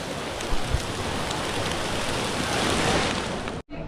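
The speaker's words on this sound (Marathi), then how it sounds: "इथं तर अजूनच पाऊस आहे" Steady, dense rain pouring down at the Matheran hill station, a constant broadband hiss with a few louder drops, cutting off abruptly near the end.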